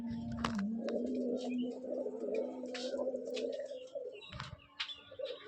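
Giribaz pigeons of the Abluk variety coo close by, a low sustained coo overlaid by scattered chirps and light rustling.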